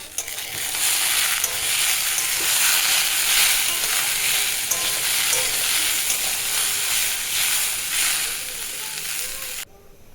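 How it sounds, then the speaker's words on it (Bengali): Potatoes sizzle steadily in a pan, a loud, continuous frying hiss with faint stirring, running unbroken for about ten seconds before cutting off abruptly near the end. "বেশ কিছুক্ষণ ধরে আলুগুলো আমি কষে নিচ্ছি"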